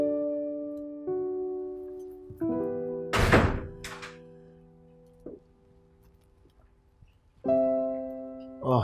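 Several dull knocks strike a door in an office setting in a Nigerian drama, a short cluster of loud thuds over steady background music.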